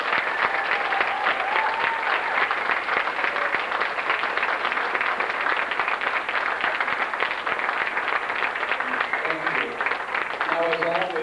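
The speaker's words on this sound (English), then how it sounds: "I would like you to give them a big round of applause." An audience at a student performance gives a big round of applause, loud, continuous clapping filling the room throughout, with a few faint voices and cheers near the end.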